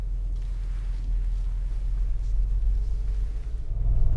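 Mercedes G500 AMG V8 bi-turbo engine pulling away on a snowy mountain road, a deep low rumble from inside the cabin that builds steadily louder toward the end.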